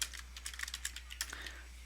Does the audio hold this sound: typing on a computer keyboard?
yes